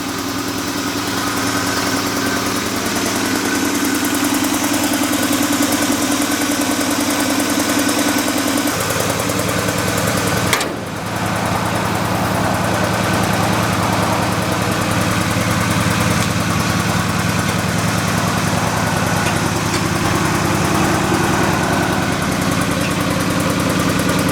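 A 1970 Chevrolet C10 Sierra Grande pickup with a 402 V8 idles steadily and loudly up close, a deep continuous rumble whose tone shifts briefly partway through, with no talking.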